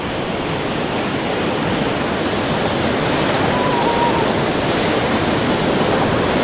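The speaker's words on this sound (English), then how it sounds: "even on this side of Scarborough, the waves are still coming over" Sea waves crash and surge over the shore at North Bay, Scarborough, a loud, dense, continuous roar of surf filling the whole stretch with no talking.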